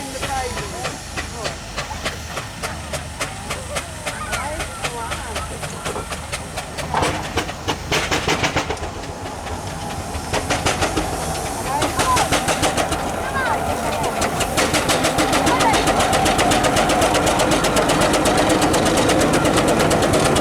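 Full-size steam engine Jess sets off in a country show arena, giving a rapid, steady run of chuffing exhaust beats with hissing steam that grows louder and denser as it gathers speed, with voices in the background.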